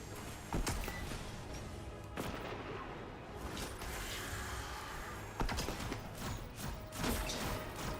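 Rockets fire again and again in a naval combat video game, a dense, rumbling barrage with sharper booming bursts standing out over constant engine and battle noise.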